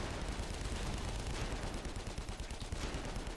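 Artillery in the strategy game AirMech Strike, a dense, continuous barrage of rapid booming shots that rolls on steadily at moderate distance.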